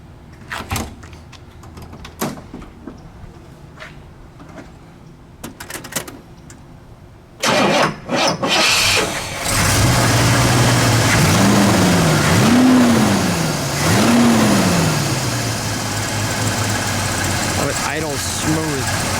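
A 1967 Oldsmobile Toronado with a 425 engine, heard first as clicks and door or switch sounds under talk, then the engine cranks, catches and settles into a loud, steady idle with a couple of revs rising and falling.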